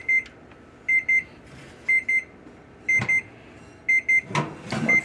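Electronic oven timer alarm beeping in a kitchen during baking, sharp high double beeps repeating in regular bursts, with clattering and handling noises between them.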